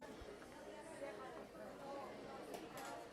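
Indoor restaurant ambience: a steady, muffled wash of overlapping chatter and crowd murmur from many diners, with a few faint clinks rising above the low, continuous babble.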